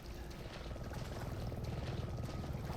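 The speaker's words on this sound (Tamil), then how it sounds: "ஏய் ஹெலிகாப்டர் போகுதுங்க." Helicopter flying overhead in the video game Resident Evil 7, a steady low rotor rumble and whirring drone holding at an even level for the whole stretch, with no talk over it.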